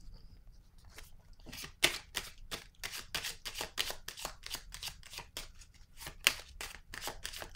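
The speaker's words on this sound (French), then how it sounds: "Je vais piger une autre carte." Tarot cards being shuffled by hand, a rapid series of crisp riffling and slapping bursts repeating close up, with a faint hum underneath and no talking.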